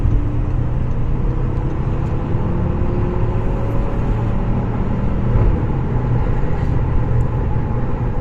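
Audi RS3 Quattro engine drones steadily as the car rolls and gathers speed, a continuous low rumble with a faint rising tone, heard alone without talk.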